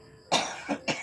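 A harsh cough up close, one strong burst followed by two shorter hacks.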